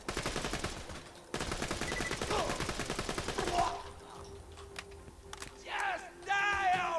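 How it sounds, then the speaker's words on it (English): Gunfire in the Borderlands 2 shooter game, with rapid automatic bursts hammering loudly in quick succession, then scattered shots and game sound effects, and brief yelling at the end. "Someone's shooting me."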